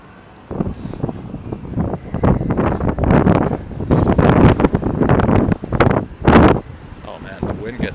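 Strong gusts of outdoor wind buffet the microphone, a loud rumbling roar rising and falling under a person talking throughout.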